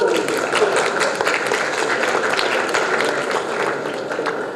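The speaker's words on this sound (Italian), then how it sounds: "Accogliamo il dottor Muara con un applauso" A crowd applauds steadily for several seconds, loud and sustained clapping from many hands filling the room.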